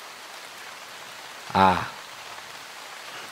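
Steady, soft rain falls as a continuous hiss beneath audiobook narration, and a voice briefly exclaims partway through.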